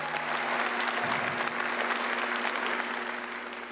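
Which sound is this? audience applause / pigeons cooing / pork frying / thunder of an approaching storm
audience applause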